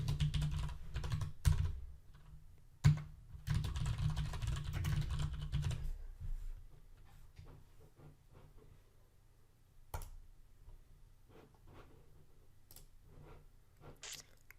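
Password being typed on a computer keyboard, a quiet run of close key clicks, dense at first, then thinning into scattered individual taps with pauses between them.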